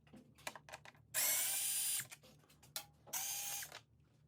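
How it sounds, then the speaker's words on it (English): A power driver backs out T25 bolts from the rear side panels of a 2020 BMW S1000RR, with two short whirring bursts between small clicks and handling noises, close and fairly quiet, no speech. "start by removing both T25 bolts"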